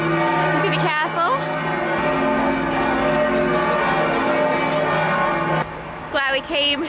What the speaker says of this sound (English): That is some loud 4:30 bells.